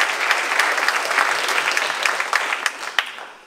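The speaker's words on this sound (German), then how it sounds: "Meine Damen und Herren, ein herzlicher Applaus für Dirk Helbing." Audience applause rings out for Dirk Helbing at the Big Brother Awards 2019 evening event, a dense, steady wash of many hands clapping, loud and close, gradually thinning toward the end.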